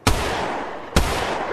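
Two loud, close gunshots from the VR shooter Tactical Assault VR, each a sharp blast followed by a lingering boom, spaced about a second apart.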